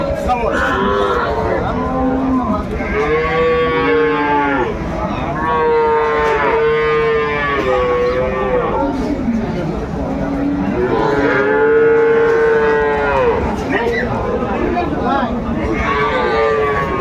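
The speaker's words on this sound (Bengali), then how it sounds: "শাহিওয়াল গাভী এবং বাছুর আমরা দেখছিলাম" At a cattle market in Aftabganj, Dinajpur, a Sahiwal cow and her calf moo repeatedly in long, drawn-out calls, close and loud, with people talking among the busy background noise.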